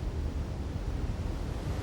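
Niagara Falls roars in a constant dense rumble of plunging water, loud and unbroken throughout with no voices.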